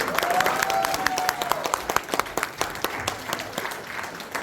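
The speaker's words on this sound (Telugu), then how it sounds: "అందరూ శ్రద్ధగా చూస్తూ గట్టిగా చప్పట్లు కొడుతూ ఉండండి" Applause from parents and audience at a 2024 children's festival in Simi Valley, a dense patter of many hands that thins into scattered, sharper individual claps, with a brief whistle-like tone early on.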